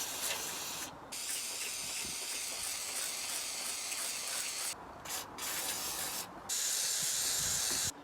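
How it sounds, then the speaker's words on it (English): A WD-40 lubricant can sprays in several sustained hissing bursts with brief pauses between them, loud and close, used on a car door. "Got our trusty WD-40."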